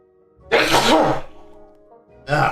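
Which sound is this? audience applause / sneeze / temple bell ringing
sneeze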